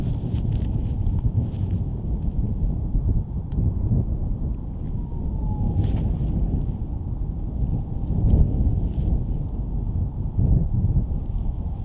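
Strong wind blusters across an open disc golf course during a throw, a loud, continuous low rushing and buffeting against the microphone that swells and eases, with no talk.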